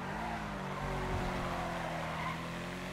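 A sports car engine in GTA growls steadily with a faint tire squeal partway through, fairly quiet and continuous over a few seconds, no talking.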